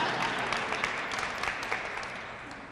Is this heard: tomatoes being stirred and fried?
no